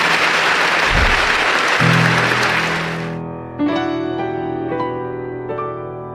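Congregation clapping in a church sanctuary during a Catholic sermon, a dense burst that fades out after about three seconds as sustained organ or keyboard chords rise and carry on alone.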